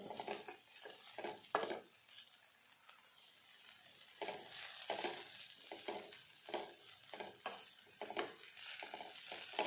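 Grated raw papaya roasting in a pan with steady stirring and scraping, soft sizzling under repeated spatula strokes that come in irregular bursts, close and fairly quiet.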